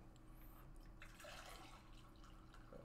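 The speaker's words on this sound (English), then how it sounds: "Pour myself some more tea." Tea poured into a cup, a soft liquid trickle and drip heard faintly and alone against a quiet background.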